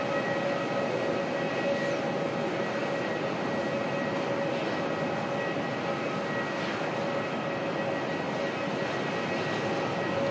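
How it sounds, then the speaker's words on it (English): Aircraft taxiing at Melbourne Airport, a constant, even jet engine drone heard from a distance with a steady whine and no change in loudness. "there is one taxiing for departure"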